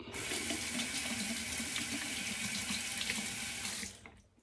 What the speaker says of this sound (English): If you go with hot water to rinse between strokes